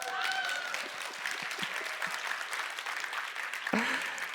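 A keynote audience at the DEVIEW 2023 tech conference breaks into sustained applause, a dense, even patter of many hands filling the hall, with a brief voice near the end.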